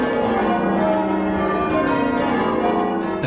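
Church bells rung by a team of bell ringers at Christchurch, North Shields, several bells sounding in overlapping succession with rich ringing tones, loud and continuous without any voices.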